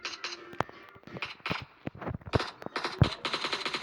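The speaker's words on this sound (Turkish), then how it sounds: "Silah susturuculu olduğu için artık silahımızdan hiç kimse hiç hiç kimse sesini duymuyor" A silenced gun fires in a video game in quick bursts of muffled, clipped shots, with rapid stretches of fire broken by brief pauses.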